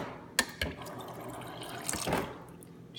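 Water runs from the door dispenser of a Frigidaire refrigerator whose ice dispenser has failed: a faint, steady trickle into a container, with a couple of sharp clicks near the start, heard alone and close.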